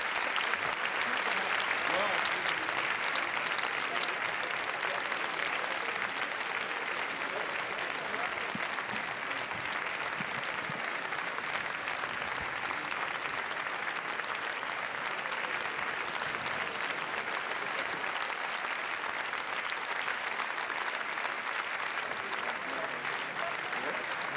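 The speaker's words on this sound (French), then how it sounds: "applaudissements nourris avant la projection" Sustained, dense applause from a theatre audience before the Cannes 2018 screening of the film At War, with the cast and director entering; steady clapping fills the whole stretch without pause, close and even, with a faint crowd murmur underneath.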